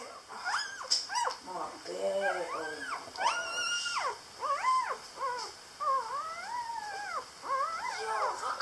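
Newborn puppies whimpering up close, a string of high, wavering squeals and whines with short pauses between, fairly faint and close to the mic.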